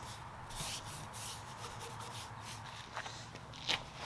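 Brush bristles rubbing pre-stain wood conditioner onto bare wood, a soft continuous scrubbing with a few stronger strokes, close and quiet with no voices.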